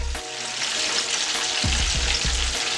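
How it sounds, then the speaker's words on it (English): Steady, dense sizzling of baby back ribs deep frying in hot oil, with a few low clunks and stirring knocks partway through. "Frying them up, baby. Frying them up."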